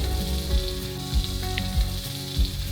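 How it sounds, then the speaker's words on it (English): A whole bluegill pan-searing in a hot pan, giving a steady close sizzle with soft crackles and pops and a few louder bursts, with no voices. "While that's sizzling, go ahead and slice up your lime."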